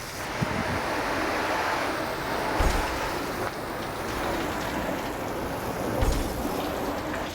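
Steady hiss of a water spray rinsing a dirty test car hood outdoors, a broad continuous wash of noise with a couple of brief heavier bursts as the stream shifts across the panel.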